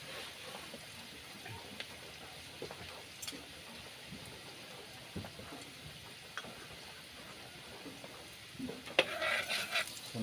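Garlic sautéing in a pan, a quiet steady crackle and hiss of frying with scattered faint ticks, growing a little louder and busier near the end; no talking.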